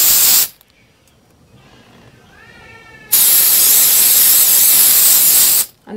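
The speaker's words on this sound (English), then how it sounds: "So I just so I just spray on my nails just to keep them dry." Nail drying spray hisses onto freshly done gel nails in two bursts, a short one at the start and a long, loud, steady hiss of about two and a half seconds near the end, with near-quiet between.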